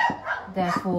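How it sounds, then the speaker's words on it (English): Dogs barking outdoors, close enough to carry indoors: a few sharp yaps and barks under a single spoken word, filling most of a brief moment. "I'm sorry about the noise of the dogs."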